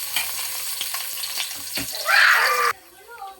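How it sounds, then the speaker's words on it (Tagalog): Garlic drops into hot oil in a wok and gives a brief loud sizzling burst over a background hiss. A voice talks throughout, and the sizzle cuts off abruptly near the end. "maglagay tayo ng konting mantika. Ilagay natin yung bawang."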